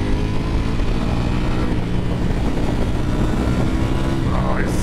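A 2024 Ducati Panigale V4S rides along with its wheel lifting, a steady loud engine roar mixed with wind rush that holds throughout.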